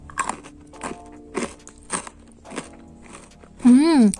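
Someone bites into a fried snack with a crisp outer shell and a soft inside, giving a few sharp crunchy bites and chews spaced about half a second apart, close up, with a brief voiced murmur at the end.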